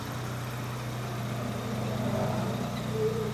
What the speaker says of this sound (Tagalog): Saka ang ganda ng makina. Pinong-pino yung makina.